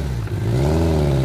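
A voice imitates a motorcycle engine with a steady, buzzing rumble that rises slightly in pitch, sustained and close without pause.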